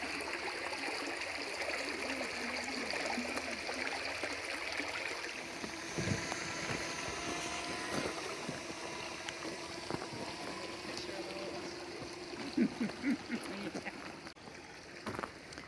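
A creek runs steadily over rocks near a cave watershed, a continuous close babble of flowing water with occasional splashes and knocks.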